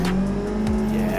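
Tires squeal from a yanked handbrake in a VR racing game during a tandem follow lap at Lime Rock, a steady engine drone running under the screech for just over a second.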